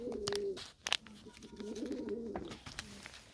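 Pigeons cooing in a small home loft, with repeated soft throaty coos close by, interrupted by a few sharp knocks and rustles.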